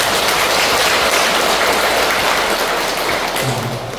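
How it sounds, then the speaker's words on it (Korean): An audience of new members at a Catholic Legion of Mary training session applauds vigorously, a dense, continuous wash of clapping that stays loud and steady throughout, with no talk over it. "우리 장한 여러분들이 서로의 발전에서 힘차게 박수 한번 치고 가는 시간입니다"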